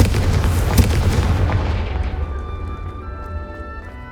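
In the Hogwarts Legacy video game, the Confringo spell goes off as a loud, booming blast. A deep rumbling explosion fades out over several seconds into a quieter ringing tail, with no speech.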